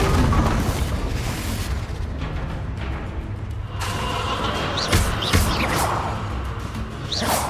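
Bombarda blasting spell explosions in Hogwarts Legacy: a continuous roar of booming blasts with whooshing bursts and sharp cracks near the end, loud and dense throughout.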